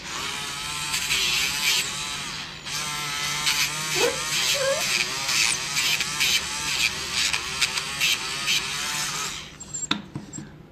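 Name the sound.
grinding a dog's nail with a nail grinder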